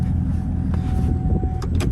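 Pickup truck idling close by with a steady low engine rumble, a faint whine running through it and a couple of short mechanical clunks near the end as the shifter comes out of reverse.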